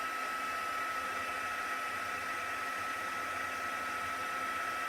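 Electric heat gun running steadily while warming a wooden picture frame, a constant blowing roar with a fan whine, close and unbroken throughout, no talking.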